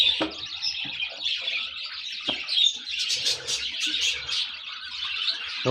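Small chicks chirp busily inside a bird breeding box, a dense run of high, thin peeps with a few sharper calls standing out, close and steady throughout.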